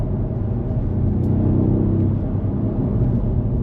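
A BMW M5 Touring on the move, its engine giving a steady, loud low rumble with a constant droning whir and no rise or fall in pitch, heard from inside the car.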